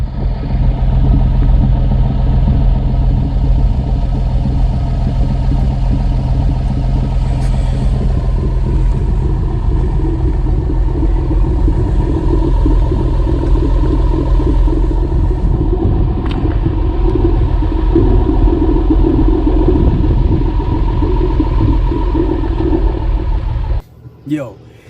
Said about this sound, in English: Yo, the idle of this exhaust sounds crazy to me.